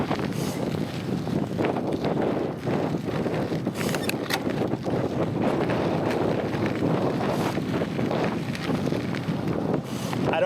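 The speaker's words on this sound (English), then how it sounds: "Man, this wind is absolutely brutal" Strong wind roars across the microphone continuously during a gravel bike ride on an out-and-back road route near Fayetteville, Arkansas, loud and buffeting throughout with no speech.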